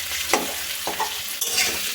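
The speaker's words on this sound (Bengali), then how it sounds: "গোটা গরম মশলা, এলাচ, আদা ফোড়ন দিয়ে তারপরে আমি আলুগুলো ভেজে নিচ্ছি।" Potatoes fry in hot oil with whole garam masala, cardamom and ginger, a close steady sizzle broken by a few scraping stirs of the spoon, with no talking.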